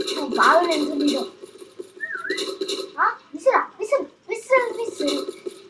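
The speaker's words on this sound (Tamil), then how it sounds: "விசில் அவங்க எங்கேயோ" Whistling in the Hide or Die video game: short rising and falling whistle tones come in bursts amid other game noises, with people talking over them throughout.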